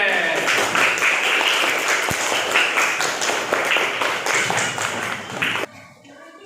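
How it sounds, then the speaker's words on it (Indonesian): Classmates applaud Aden in a classroom, a lively burst of many hands clapping near and loud, then cutting off abruptly just before the end. "Beri tepuk tangan untuk Aden."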